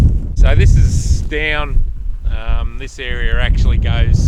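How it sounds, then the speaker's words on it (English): Low rumbling wind buffeting the microphone outdoors runs under someone speaking close up, steady throughout. "apologies for the wind, it is a bit blowy"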